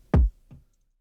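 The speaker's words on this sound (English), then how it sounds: "On its own, the kick sounds like this." Two punchy kick drum hits from the Kush trap drum kit, a booming low thump followed by a softer, shorter echoing second hit, dry and isolated with silence around them.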